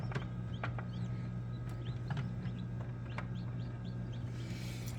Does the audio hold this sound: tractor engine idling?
no